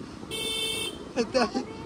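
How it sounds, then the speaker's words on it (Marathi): A car horn sounds once in a single sustained blast on a roadside trip to a waterfall, followed by brief voices. "हो तू हॉर्न वाजव."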